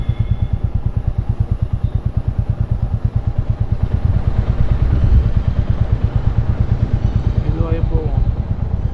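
A motorcycle coasts downhill in neutral on a forest road on the way to Athirappally, giving a steady, loud, pulsing rumble close by with a rattling undertone throughout.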